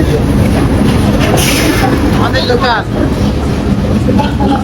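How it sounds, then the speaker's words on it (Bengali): A freight train rolls past at a station, sending out a loud, steady roar and rumble with some wheel squeal, and speech can be heard beneath it. "যেই ট্রেনটা দেখছেন এটাকে যত সম্ভব মালগাদা বলে"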